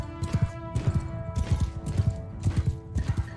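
Horse hooves gallop in Mount & Blade II Bannerlord during a battle, a loud, steady rhythmic clatter of close hoofbeats in repeated bursts over a few seconds, with no talking.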